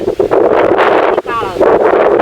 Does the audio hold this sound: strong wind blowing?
yes